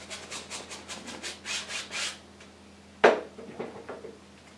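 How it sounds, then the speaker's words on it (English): A 2-inch brush rubbing blue and green oil paint onto canvas in about ten rhythmic, close, swishing strokes, followed by a sharp knock and a few softer scuffs. "So I'll grab the 2-inch brush and just stick a little bit of blue and green right there. Just rub it right in."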